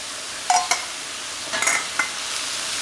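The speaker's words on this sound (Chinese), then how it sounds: "然后我们给它煸炒" Cooked hot dry noodles with egg being stir-fried in a wok over a wood-fired stove, a soft sizzle under a few scattered scrapes and clinks of the spatula.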